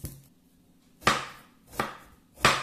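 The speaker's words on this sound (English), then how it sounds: "Let us quickly chop up some onions." Three sharp knife chops on a cutting board, spaced about a second apart, as onions are sliced thinly by hand; close and crisp with quiet gaps between strokes.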